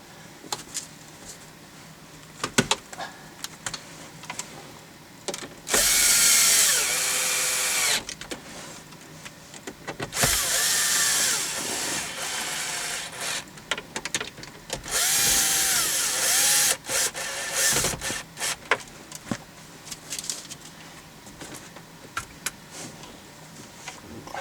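A power drill drives screws back into a car's instrument or interior panel in several separate whirring bursts of a few seconds each, with quieter handling clicks and taps between them.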